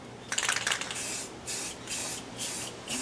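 Clear coat paint sprayed from a can onto a 3D dinosaur model, a burst of close hissing with rattly sputters at the start, then several shorter spray passes separated by brief pauses.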